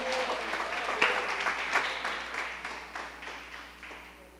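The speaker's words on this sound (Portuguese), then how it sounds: "Você pode aplaudir ao Senhor com o seu melhor?" A church congregation applauds during a worship service, dense steady clapping that fills the room and slowly tapers off over a few seconds, with no talking.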